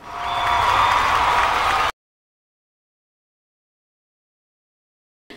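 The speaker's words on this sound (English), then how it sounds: "Applause, applause." Applause sound effect from a business video call: a dense wash of crowd clapping for about two seconds, then abrupt silence, with a faint return at the end.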